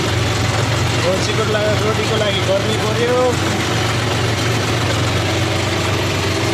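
Close, unbroken low drone of a tractor engine pulling up a steep stony hill road, with someone talking over the steady rumble throughout.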